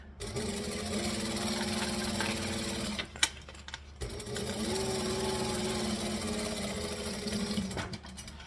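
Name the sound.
sewing machine stitching fabric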